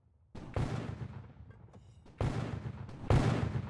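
Gunfire in a Roblox Fortnite game comes as three loud, booming blasts spaced unevenly, each with a rumbling decay and sparse clicks between.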